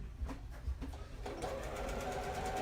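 A home sewing machine stitching fabric for track pants, a quiet rapid mechanical chatter that starts in short bursts and then runs continuously.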